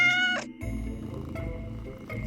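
A black cat meows loudly and close, one drawn-out, almost human-sounding cry followed by a lower rumbling caterwaul, with a brief higher mew near the end, and no talking.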